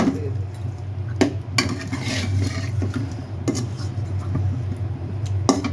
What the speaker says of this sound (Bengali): আমি বেশি নাড়াচাড়া করবো না, হালকা একটু নাড়াচাড়া করে ঝোল দিয়ে দিই।